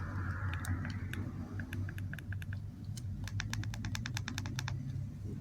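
Buttons on a damaged, broken TV remote control being pressed, producing quiet, sharp plastic clicks, first scattered and then in a quick run of taps.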